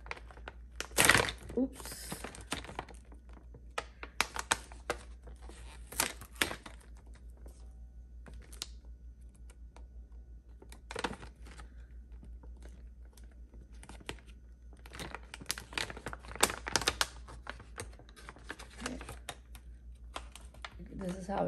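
A tight plastic pouch holding a Sephora lip set is pried open in scattered bursts of crinkling and rustling, with quiet handling noises between them and a brief spoken word.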